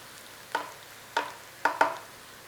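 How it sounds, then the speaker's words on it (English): Onion cooking in a pan for Mughlai chicken handi, with four quiet, sharp knocks and scrapes from stirring at irregular intervals over a faint background, no voices. "we're cooking the rawness out of the onion"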